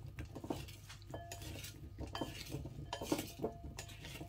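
Potatoes being tossed and mixed with seasoning in a bowl, soft close scraping and stirring with occasional light clinks of a utensil against the bowl.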